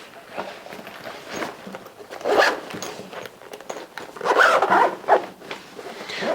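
The zipper on the half zip pocket of a Tomtoc electronics organizer is pulled in short rasping strokes, close up, with pauses and a couple of longer, louder runs.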